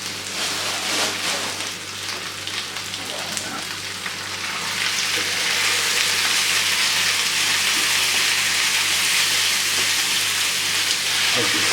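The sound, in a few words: mince frying in a pan with onions and garlic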